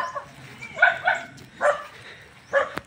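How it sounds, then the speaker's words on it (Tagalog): Several dogs bark in short separate yaps, four or five barks spread across a few seconds, moderately near in an outdoor setting. "Ang mga aso mo."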